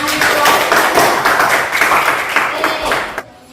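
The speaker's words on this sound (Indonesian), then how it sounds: "Tepuk tangan." Students in an Indonesian classroom clap together in brief rhythmic bursts, close and loud, with voices mixed in, ending abruptly into quiet.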